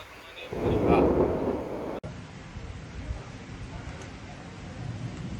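A deep rumble of thunder swells and fades in the first seconds, followed by a steady wash of background noise.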